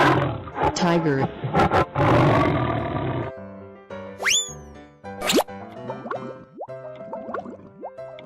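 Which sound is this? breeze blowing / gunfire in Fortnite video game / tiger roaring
tiger roaring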